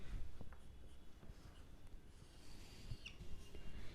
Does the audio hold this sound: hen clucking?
no